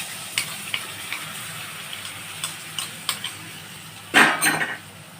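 A ginger, chilli, coriander and cumin paste for butter masala paneer hits hot oil in a pan, with light stirring clinks and scrapes, then a loud burst of sizzling near the end.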